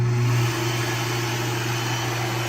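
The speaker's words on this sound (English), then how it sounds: "we'll turn it on the lowest version so you can kind of hear it" A Shernbao high-velocity dog grooming blower dryer on its lowest setting gives a steady motor whine with a low, constant hum and airy rush, running continuously at an even level with no voices.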